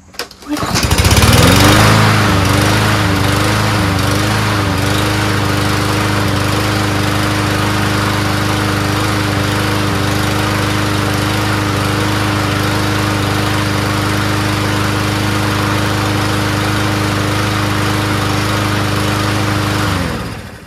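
A Toro rear-wheel-drive self-propelled lawn mower engine starts after repair, then holds a loud, steady drone at close range for about twenty seconds before cutting off, with no voices.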